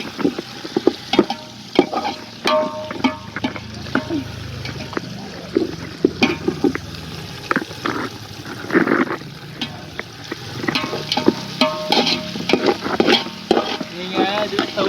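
Tomatoes and green chilies sizzle and fry in a pot over a wood fire while a spoon stirs them, with steady scraping and clinking strokes over a continuous crackling fry.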